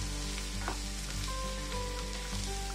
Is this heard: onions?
yes